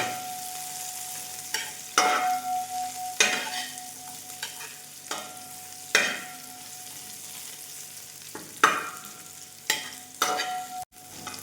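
Beef dry fry with coconut pieces sizzles steadily in a pan, broken every second or two by the scrape and clatter of a spoon stirring, close up and fairly quiet.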